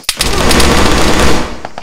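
Rapid automatic gunfire in the video game Argo, a loud, dense burst of close shots lasting most of two seconds before trailing off.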